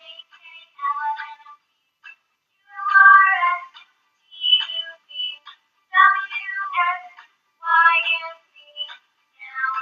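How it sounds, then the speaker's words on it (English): A cat meows in a series of clear, close, fairly loud cries separated by brief silences, some short and some drawn out, with no other sounds. "C for cat."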